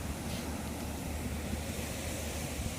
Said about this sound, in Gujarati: હવે હા જો ભાઈ દરિયો છે ચેન્નાઈનો